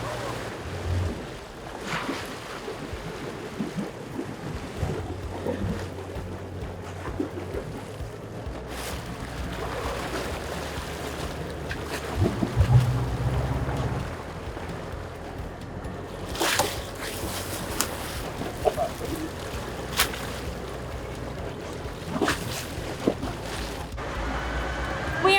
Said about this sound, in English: You're gonna have to excuse the engine running.